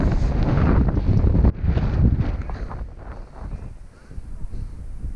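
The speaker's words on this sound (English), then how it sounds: "Very windy today." Strong wind on a climbing route buffeting the microphone in loud rough gusts that ease off partway, then rise again, with no clear speech.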